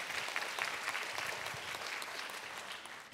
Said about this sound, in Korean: 여러분 다시 한번 큰 박수로 보내드리도록 하겠습니다